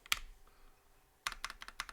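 Typing on a KBD67 mechanical keyboard with non-silent switches: one isolated keystroke, a pause, then a quick run of crisp, close clicks, fairly soft overall.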